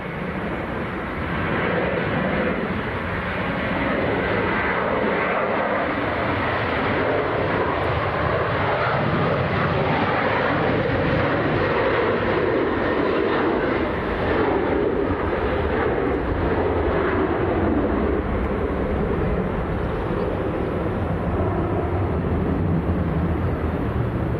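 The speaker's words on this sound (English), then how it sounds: "Next to go, this is Jet 2 to Lanzarote." Jet2 airliner departing Leeds Bradford Airport for Lanzarote, its engines giving a loud, sustained roar that holds steady for the full stretch and drowns out everything else.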